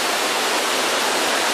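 The waterfall at Wat Tham Mueang near Chiang Dao, Thailand, roars as a loud, steady hiss of falling water, close and unbroken with no voices over it.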